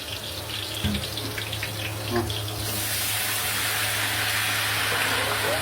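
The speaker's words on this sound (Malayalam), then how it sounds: "വെള്ളം ഒഴിക്കാം" Water pours steadily into a cooking pot of roasted spices for ghee rice, a broad rushing hiss that grows fuller toward the end, over a low background hum.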